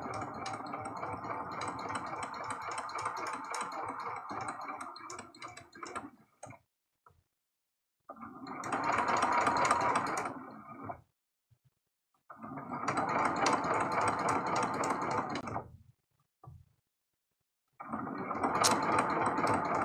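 A sewing machine stitches a quilted fabric heart card, running in steady bursts of rapid mechanical ticking with short pauses between runs as the fabric is turned, close and clear with no talking.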